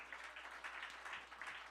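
Church congregation applauding during a Sunday sermon, a steady burst of many hands clapping at moderate distance, continuous and fairly even throughout.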